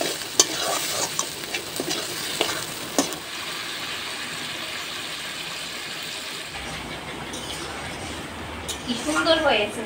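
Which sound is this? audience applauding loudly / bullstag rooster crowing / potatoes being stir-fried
potatoes being stir-fried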